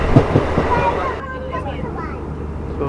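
A Nepal Railway passenger train running on its line, heard from inside as a steady low rumble and rattle, with a voice talking over it.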